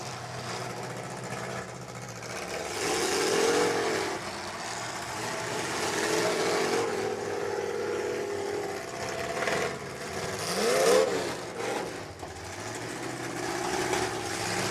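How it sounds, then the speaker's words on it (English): Engine of a demolition derby car warming up at a South Dakota derby, a steady rumbling exhaust drone with a couple of revving swells, continuous over crowd and arena noise. "That motor of 72 aboard Christensen starting to get warm. You can hear it. Hear it coming through the exhaust."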